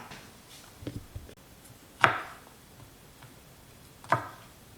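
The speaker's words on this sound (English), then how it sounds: "I always cut off the woodsy end at the base" A knife cutting the woody base ends off vegetables on a board: a few sharp chops, spaced about two seconds apart, close and distinct against a quiet kitchen background with no talk.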